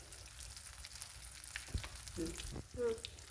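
Oil crackles and sizzles steadily as tempering spices with dried red chillies fry for gongura pickle, with a few sharper pops and brief clinks of a utensil near the end.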